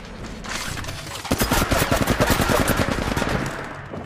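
Gunfire from the mobile game Apex Legends Mobile: after a brief lead-in, dense rapid automatic bursts rattle continuously for over two seconds and then taper off.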